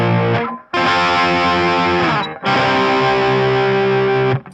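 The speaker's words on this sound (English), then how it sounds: "He doubles the power chords," Heavily distorted electric guitar striking doubled power chords in a riff, two long sustained chords ringing loud and close with a brief gap between, no talk.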